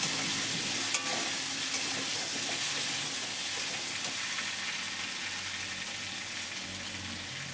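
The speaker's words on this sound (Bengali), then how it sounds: "আলুটা প্রায় ভাজা হয়ে গেছে, আর এরপর আলুটা নামিয়ে পনিরটা ভাজা চাপাবো।" Potatoes frying in a pan for a pointed gourd and paneer dish, a steady close sizzle with a constant bright hiss that fades slightly over the stretch, no voices.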